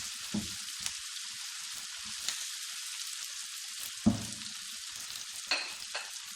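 Garlic eggplant fries in a pan while being stirred, a steady bright sizzle broken by occasional sharp scrapes and knocks of the spoon against the pan, close and alone.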